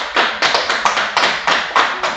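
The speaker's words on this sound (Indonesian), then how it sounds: "tepuk tangan untuk kelompok 2" A small classroom group claps in a steady rhythm of about nine evenly spaced, close, crisp claps over two seconds, with no talking.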